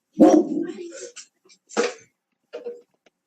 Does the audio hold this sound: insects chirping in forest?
no